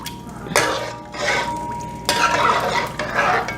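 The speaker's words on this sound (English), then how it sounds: "we're gonna mix this really well, make sure nothing's sticking to the bottom of our pot" Spoon stirring creamy pasta sauce with Spam and ham in a pot, three scraping, sloshing strokes close up, each a broad burst of stirring against the pan bottom, with no talking.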